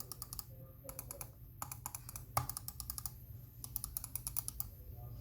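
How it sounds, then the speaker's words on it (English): Button clicks on a Logitech MX Master 2S wireless mouse, quick bursts of crisp, tactile clicking close up, in rapid clusters with brief pauses between. "the clicks on this thing are really satisfying and clicky and tactile"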